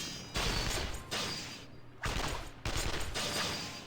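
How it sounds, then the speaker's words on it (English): Bursts of rapid gunfire rattle in several loud volleys separated by brief gaps, with a dense, booming, battle-like wash, from the video game Persona 4 Arena Ultimax. "Is that gunfire I hear? Sounds ring out continuously, as if a battle is taking place nearby."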